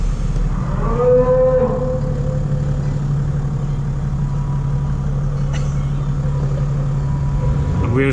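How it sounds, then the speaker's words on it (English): Cattle mooing on a mountain road in Bulgaria near a tunnel exit, one long drawn-out moo early on over the steady low idle of a stopped car's engine. "Cows."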